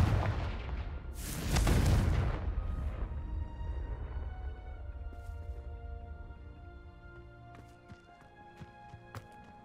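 A Confringo blasting spell explodes in Hogwarts Legacy. A loud, booming blast swells and rolls off over a few seconds, then gives way to quieter ringing game ambience with faint scattered clicks.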